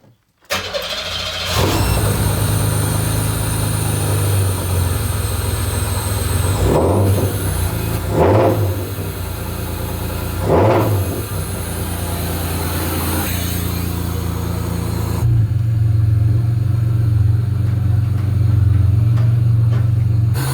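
Stock V6 engine of a Pontiac Fiero running steadily up close, a loud continuous rumble with a few brief revs partway through; the idle settles into a heavier, deeper drone toward the end.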